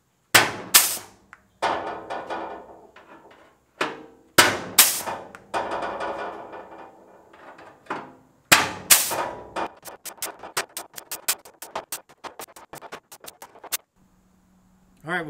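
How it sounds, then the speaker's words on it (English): Hand flange punch tool punching holes into a sheet-metal Volkswagen Beetle floor pan, sharp metallic snaps coming in scattered bursts then a rapid run of quick clicks, close and loud with pauses between. "we got some holes punched in the floor pan"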